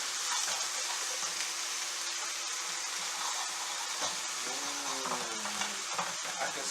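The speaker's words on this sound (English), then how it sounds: "I actually want to sear those lamb shanks. Get them a little bit brown." Lamb shanks searing in a hot pan give a steady, close, loud sizzle that runs without a break, with a faint low tonal hum partway through.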